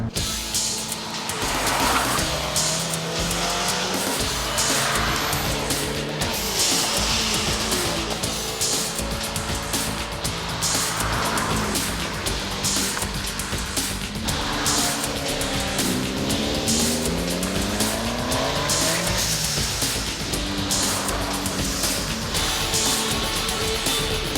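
Ford RS200 driven hard, its engine revving up and down through repeated gear changes, with tire squeal and skidding over a continuous loud run and no talking.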